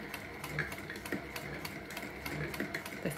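A vintage sewing machine with a spool felt fitted runs a short stitch, a steady close mechanical chugging with regular clicking beats and no voices.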